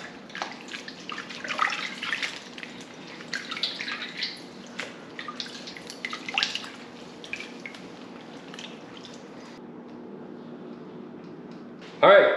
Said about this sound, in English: I'll go through and we're just gonna rinse this out